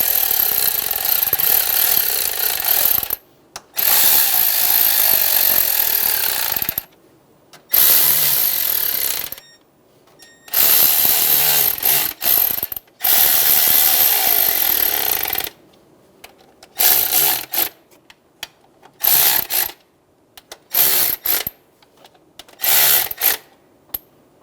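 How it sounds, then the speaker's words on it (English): A ratchet snugs down the valve cover bolts on a 2003-2008 Honda Pilot engine, in close, loud bursts of rapid clicking separated by short pauses as the wrench moves from bolt to bolt. "We're going to go around and snug all of our bolts down."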